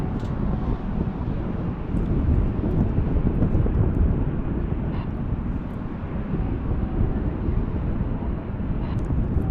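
A Qantas airliner taxis at DFW Airport, heard as a steady low jet engine rumble and roar mixed with wind buffeting the microphone, continuous and fairly loud throughout.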